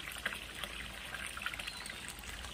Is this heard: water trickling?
yes